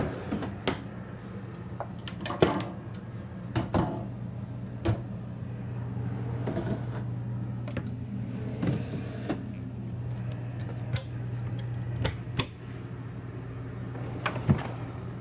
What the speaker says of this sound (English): just open up all of our storage here